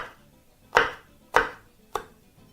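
A knife chops vegetables finely on a cutting board, three sharp, close knocks spaced about half a second to a second apart, the last one softer, with no talk.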